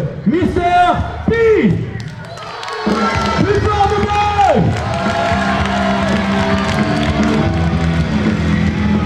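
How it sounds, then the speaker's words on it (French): A crowd at a French catch wrestling show cheers and applauds loudly and steadily after an amplified announcer's voice rings out over the hall, with whoops rising from the audience. "je vous demande de faire un tonnerre d'applaudissements au premier arbitre qui va venir rejoindre le ring ce soir"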